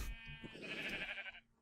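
A single sheep bleats in the block-building game Minecraft Feed The Beast, one drawn-out wavering cry lasting about a second, clear and fairly close, with no voices over it.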